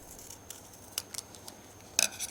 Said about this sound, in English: The next step is cut the extra part.